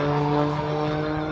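A steady, droning aerobatic airplane engine and propeller at an air show, a constant near hum holding level for the full stretch with no voices.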